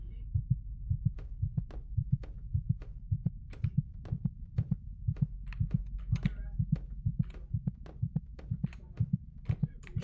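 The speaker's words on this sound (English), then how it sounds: "Why do I hear a heartbeat?" A steady, slow heartbeat pulses as a game sound effect in Sonic 06, with evenly spaced double thumps repeating over a low hum for about ten seconds.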